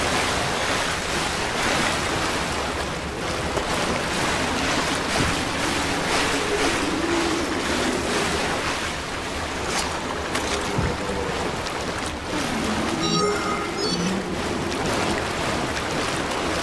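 Water sloshing in a flooded area in Resident Evil 6, a continuous rushing, surf-like wash with wind-like noise throughout, loud and close, with no talk.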